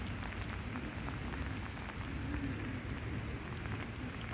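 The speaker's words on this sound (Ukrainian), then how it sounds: "Якщо дощик нормальний, йде." Steady autumn rain falls in Kyiv, a dense continuous patter on surfaces with close individual drops ticking through the wash, lasting throughout with no voices.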